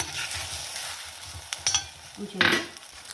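Potato and fenugreek-leaf curry with tomato pulp roasting in a pan gives a soft, steady sizzle with a few scraping stirs and light utensil clicks near the end, no talk.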